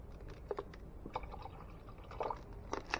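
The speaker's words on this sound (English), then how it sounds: "I'm going to put about a half a bottle of water" Water poured from a bottle into tomato sauce simmering in a pot for a blue crab stew, a soft close liquid trickle and splash with brief gurgling bursts, no talking.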